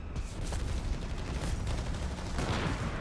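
Mortar fire and battlefield explosions in the Company of Heroes 3 video game, a dense, continuous rumble of booms and blasts heard at a moderate distance, with no clear gaps between them.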